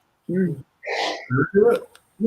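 A person lets out a loud, sudden sneeze with a sharp breathy burst, surrounded by short vocal sounds nearby.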